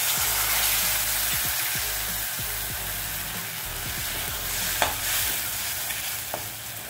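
Jaggery melting with water and ghee in a pan of roasted chickpea flour for sattu ladoo gives a steady close sizzle and bubbling, with repeated stirring scrapes and a couple of sharper knocks near the end.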